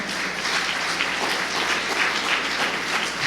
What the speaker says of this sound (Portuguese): Aplauda Jesus, meu amado.